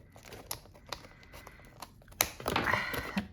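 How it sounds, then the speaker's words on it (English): Scissors snip through paper while a handmade journal is being made: scattered light clicks of the blades at first, then a longer, louder run of crunching cuts close by. "I'm just going to cut this bit off with the scissors as well"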